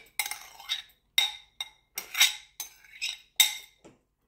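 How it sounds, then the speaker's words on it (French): Dishes clink and clatter as a salad bowl is swapped for a bigger one, several sharp knocks of crockery and utensils in quick succession, close by with no talking. "je vais changer de saladier"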